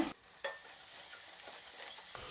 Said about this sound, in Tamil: எல்லாத்தையும் நல்லா வதக்கி வச்சுங்க